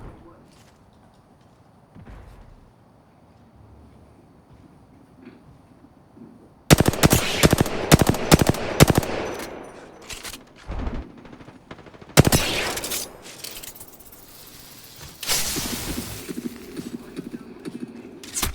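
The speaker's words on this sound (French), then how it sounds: "Je suis sous les tirs." Gunfire from the video game Apex Legends, loud bursts of rapid automatic shots beginning midway and returning in clusters, with faint speech underneath in the quieter opening.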